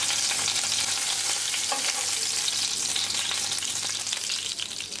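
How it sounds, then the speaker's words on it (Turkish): Chicken şiş skewers fry slowly in a pan over medium heat, giving a loud, close, continuous sizzle with light crackles and faint stirring scrapes, and no one speaking. "Orta ateşte yavaş yavaş kızartıyoruz."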